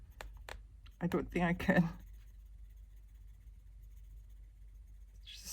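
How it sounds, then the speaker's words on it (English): A few quick, sharp clicks from a book's spine, close and fairly quiet, come at the start before a voice speaks briefly, then a quiet room. "How am I going to stop this clicking sound?"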